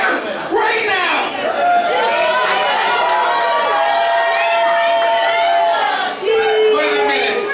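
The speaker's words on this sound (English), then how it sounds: "get up off your feet and cheer for me the way I deserve to be cheered right now" A large audience at a hall of fame induction ceremony erupts in sustained cheering, whooping and shouting, loud and dense throughout with a brief dip near the end, while scattered voices call out within the crowd.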